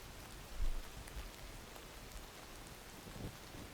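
Faint, steady rain ambience plays in the background of a bedtime-story stream, a soft hiss of falling drops with a few slightly louder patters, low in level and with no voices over it.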